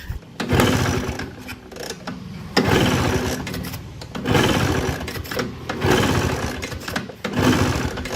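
Repeated kick-start attempts on a Bajaj Classic scooter left unused for four years, cold-starting in a series of short, uneven mechanical churning bursts separated by pauses, close and fairly loud.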